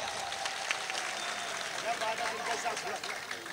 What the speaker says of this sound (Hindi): एक बार मुशायरा कमेटी के लिए जोरदार तालियां बजा दे आप।